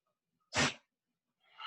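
A single sharp sneeze bursts out in a quiet yoga class, followed a moment later by a breathy exhale or snort.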